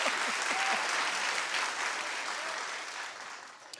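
Audience clapping fills the room, a dense, sustained round of many hands at a steady level that slowly eases off, with faint crowd murmur mixed in.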